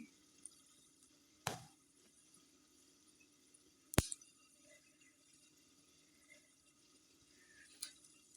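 Small amounts of water are poured into a salt mixture being made for chips. Three brief, quiet splashes and trickles are separated by near silence, with no talking.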